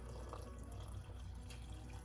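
Chicken broth pours into glass canning jars for pressure canning, a faint continuous trickle and splash of liquid heard up close with no voices.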